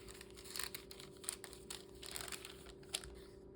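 Glassine bag in a junk journal handled up close, soft papery crinkles and small crisp rustles in irregular bursts over a low steady hum.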